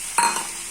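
Tomato paste lands in a pan of fried onions with a quick close sizzle and a brief stir, then a softer fading hiss.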